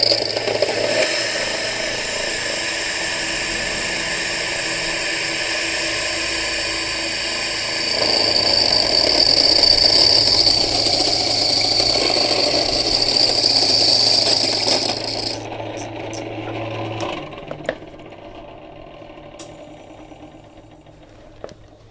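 Electric flour mill grinder pulverising dry ingredients into powder runs with a steady high whine and dense grinding roar, growing louder midway, then winding down to a stop with a few clanks near the end.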